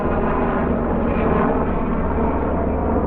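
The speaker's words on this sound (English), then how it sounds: "we got two Black Hawk helicopters flying by" Two Black Hawk helicopters passing overhead, a steady loud rumbling roar of rotor and engine noise that holds constant throughout.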